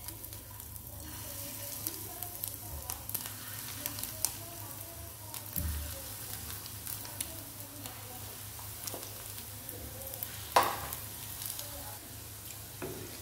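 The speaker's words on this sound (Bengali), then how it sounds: "এবার আমি ছোটো ছোটো করে বড়ার আকারে কড়াইতে দিয়ে দেবো" Fish roe fritters fry in hot mustard oil in a wok with a steady, close sizzle and occasional crackles and soft stirring clicks, no voices over it.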